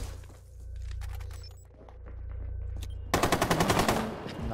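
Desert Eagle pistol in Rainbow Six Siege: a few sharp, scattered shots over a low droning hum, then a rapid burst of loud, closely spaced gunfire near the end.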